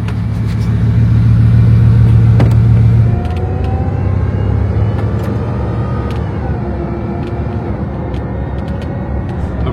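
A red and white sports car in Monaco rumbles nearby with a deep, loud engine note that swells and then drops to a lower idle about a third of the way through, with light clicks over the steady growl.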